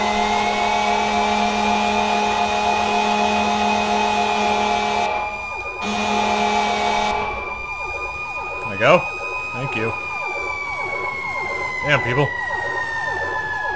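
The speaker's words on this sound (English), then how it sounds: "Just a gigantic fire truck trying to navigate the streets." A fire truck siren wails steadily in the EmergeNYC video game, loud and sustained, cutting out briefly, with a horn blast and someone talking over it.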